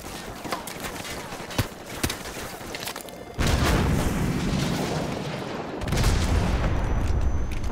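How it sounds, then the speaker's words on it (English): A Stinger missile launcher fires in Call of Duty: Modern Warfare Remastered: a sudden loud whooshing roar kicks in partway through and holds, swelling again later, over earlier scattered gunfire and battle noise with some talk. "So, grab another stinger and fire again."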